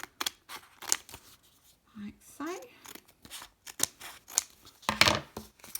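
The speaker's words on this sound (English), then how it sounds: "just taking my scissors, I will cut these slots" Scissors snip paper in quick, close, sharp cuts while slots are trimmed for a journal organiser, with light paper rustling between snips and a brief spoken phrase.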